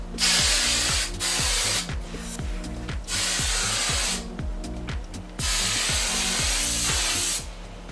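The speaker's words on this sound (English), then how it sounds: "I'm gonna actually top it with some hairspray" Hairspray sprayed onto afro hair in a run of hissing bursts, some long, some quick and choppy, close and loud, with the can's clicking in between and no talking.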